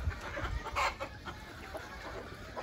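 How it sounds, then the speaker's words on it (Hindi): Black chicken on a farm in Qatar giving short, close clucks, with a louder burst about a third of the way through over steady background noise. "black chicken"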